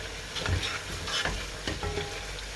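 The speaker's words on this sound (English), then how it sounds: "this is why I'm trying to stir as much as I can now" Food is stirred in a frying pan, scraping and stirring strokes over a soft sizzle, close up with no voices.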